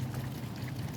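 Mineral spirits poured into a plastic bag, a short, steady, close gurgling pour with a full low wash and no pauses.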